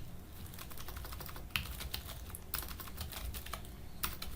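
Fingers type on a computer keyboard: quick, quiet keystrokes come in uneven bursts with brief pauses, close up and with no voices.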